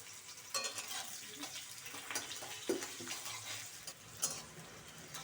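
Chopped onion hits hot oil with cardamom and cinnamon for a cabbage dish, sizzling steadily while a utensil stirs with repeated scraping knocks against the pan, no voices present.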